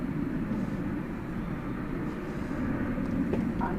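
Airliner taking off from runway 18 Left at Dallas Fort Worth Airport at night, a distant steady engine roar heard alone, with no talk.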